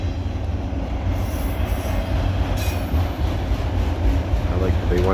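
A CSX freight train hauling autorack cars rolls past close by, a steady loud rumble of wheels on rail with metallic squeals and clatter throughout, and no pause in the noise.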